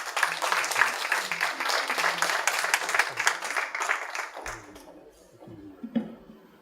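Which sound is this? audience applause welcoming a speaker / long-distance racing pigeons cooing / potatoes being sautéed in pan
audience applause welcoming a speaker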